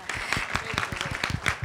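Scattered audience clapping at a business leaders' panel discussion, a light, uneven patter of individual claps, fairly quiet and with some voices mixed in.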